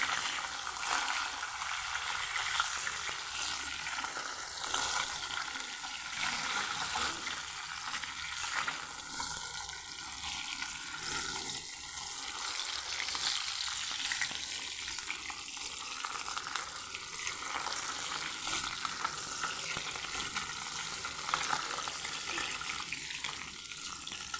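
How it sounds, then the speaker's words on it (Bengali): Parshe fish fry in hot oil in a pan for a mustard jhal, giving a steady, soft crackling sizzle that runs throughout with small spits and scrapes, fairly quiet and with no talking. "এবার এই মাছটাকেও আমি ভালোভাবে পাল্টা ভেজে দেবো"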